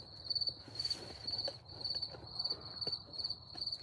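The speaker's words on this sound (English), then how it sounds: "Lots of crickets." Crickets chirp steadily outdoors at night in a dense, high-pitched pulsing chorus, with no talking.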